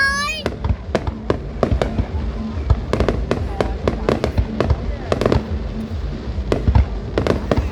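An anniversary fireworks display for the 190th founding anniversary of Thanh Son district, Phu Tho, Vietnam, booms in a dense, rapid series of loud bursts and crackles, with whistling rising shells and people talking underneath.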